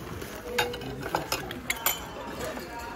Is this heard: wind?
no